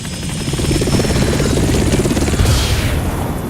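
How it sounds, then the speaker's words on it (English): A Russian Hind D gunship helicopter from the Metal Gear Solid video game, its rotor thumping loudly and rapidly alongside engine roar, with a rising whoosh near the end as it passes close by. "Colonel, what's a Russian gunship doing here?"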